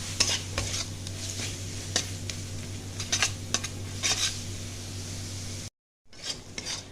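Spice masala stir-fried in a pan for a Bengali duck egg curry: steady scraping of a spatula against the pan with soft sizzling, close and fairly quiet, a short silence near the end.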